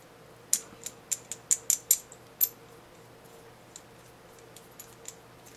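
Butterfly nut being tightened onto a threaded bolt with fender washers on a DIY steadicam: a quick run of sharp metallic clicks and ratcheting ticks close up, then a few sparse fainter clicks, no talk.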